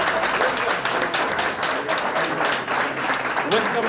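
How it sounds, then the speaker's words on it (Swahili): An audience applauds as the President cuts a ribbon at an opening ceremony, a continuous loud wash of clapping from a large crowd. "Tumpongeze kwa makofi Mheshimiwa Rais anapokata utepe huo."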